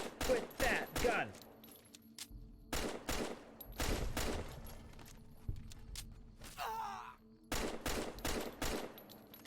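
Repeated bursts of gunfire from a gun in the video game Fallout New Vegas, several loud volleys spaced across the stretch with short pauses between them and a brief whooshing effect in the middle.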